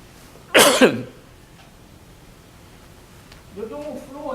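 A single harsh cough burst from a lingering post-flu cough, sounding close and loud at a lecture on health in Cuba, followed by quiet room tone and then a voice beginning to speak.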